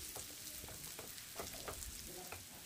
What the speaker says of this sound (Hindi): मीडियम फ्लेम पर हम एक मिनट के लिए प्याज को भून लेंगे।